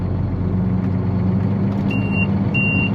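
Two sustained electronic beeps of a reversing Mack truck sound over a steady low engine rumble, each beep lasting about a third of a second.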